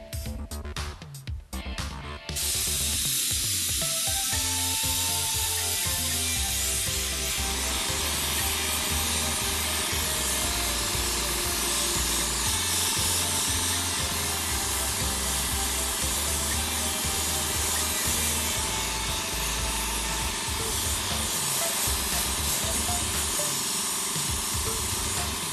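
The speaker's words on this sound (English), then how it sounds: "Now for the airbrush part, I'm going to use blue and black and mix those." An airbrush sprays blue and black face paint in a steady, continuous hiss that runs almost the whole way, with a few short clicks and shifts at the start before the airflow settles.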